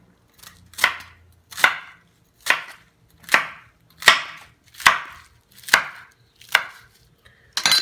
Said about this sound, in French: je le coupe en tranches de 1 pouce